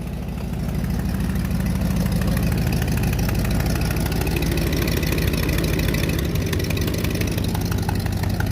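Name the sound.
1969 Buick Skylark GS 350 engine running with exhaust leak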